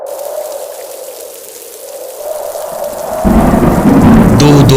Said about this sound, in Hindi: बारिश इतनी तेज थी कि उन्हें रास्ता दिखाई ही नहीं दे रहा था।